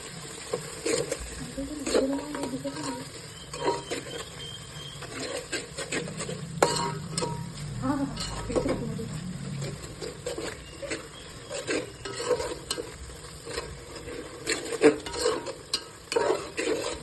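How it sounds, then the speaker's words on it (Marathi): Vegetables and ground masala sauté in a pan for masala rice, giving a low, soft sizzle under frequent scraping and tapping of a spoon as the mixture is stirred. "छान ते सुरेपर्यंत परतून घ्यायचं आता खूप छान रंग येतो भाजीचा"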